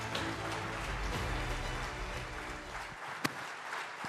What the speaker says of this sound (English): Ladies and gentlemen, please keep the applause going